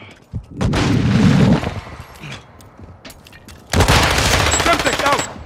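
Rapid gunfire in Call of Duty Modern Warfare II, a loud close burst early and another heavy burst near the end, with quieter shots and game noise between them and someone speaking over it.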